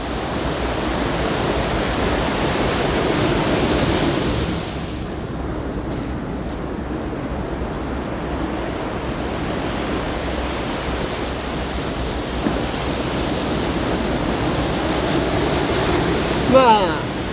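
Ocean waves break on Shonan Hiratsuka beach, a continuous, fairly loud wash of surf that swells slightly near the start and holds steady throughout.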